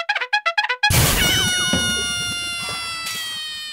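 A cat meowing sound effect: a quick run of five or six short, clear meows, then a loud crash with rattling, clattering debris and ringing tones that fade over the remaining seconds.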